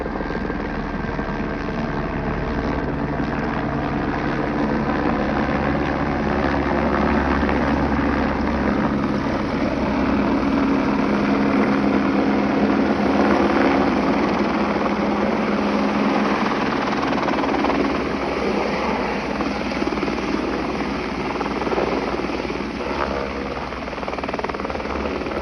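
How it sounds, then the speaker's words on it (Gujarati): Helicopter engines running on a morning at Kedarnath, a continuous whirring rotor drone with a steady thrum, fairly strong and constant throughout, with no clear talking over it. "હેલિકોપ્ટર ચાલુ થઈ ગયા છે ગાઈઝ સવારનું"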